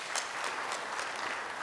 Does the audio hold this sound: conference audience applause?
yes